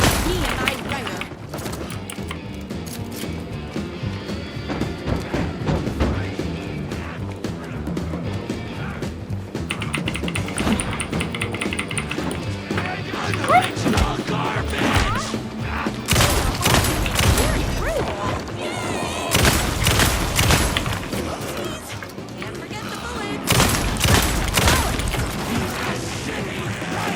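Gunfire and crashing impacts from the video game Alan Wake 2 Night Springs play loud and dense throughout, in repeated bursts and booms over game music and effects.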